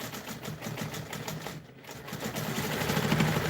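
Sewing machine quilting a custom quilt, running continuously with a steady rapid stitching rhythm, dipping briefly midway before picking back up slightly louder and close by, with no voices.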